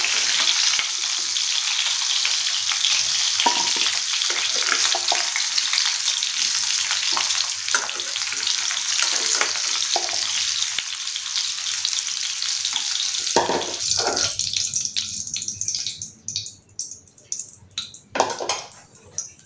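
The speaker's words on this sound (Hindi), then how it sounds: "ड्रम स्टिक को हमने दो तीन मिनट अच्छे से फ्राई कर लिया है" Drumsticks (moringa pods) fry in hot oil in a kadhai, a loud, steady hiss and crackle that thins out near the end as a metal utensil clinks and scrapes against the pan.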